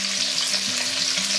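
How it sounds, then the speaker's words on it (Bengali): Pieces of katla fish fry in hot oil, a steady close sizzle with a continuous hiss and no voices. "আমরা এপিট ওপিট হালকা লাল লাল করে ভেজে তুলে নেবো মাছগুলো।"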